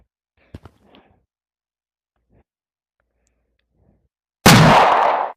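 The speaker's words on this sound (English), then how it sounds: "I just heard a gunshot." A sharp, loud gunshot-like burst in a horror video game with monkeys erupts near the end and rings out for about a second, following a few faint clicks and brief voice fragments earlier.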